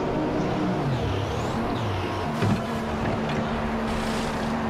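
A Ferrari makes a pit stop in the F1 2015 game at Bahrain, a steady mid-loud engine drone with faint mechanical clatter and a brief thump near the middle.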